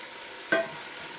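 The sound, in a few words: food sauteing in a pan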